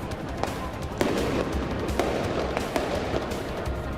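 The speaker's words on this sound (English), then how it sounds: "And more fireworks in Santa Ana." Fireworks go off during street protests in Santa Ana, Orange County, at night: a rapid, irregular string of sharp pops and bangs over a dense crackling, rumbling crowd background.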